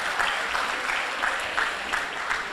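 Audience at a Brazilian legal event gives a round of applause for a speaker, a dense, steady wash of clapping from a large room, even and sustained throughout.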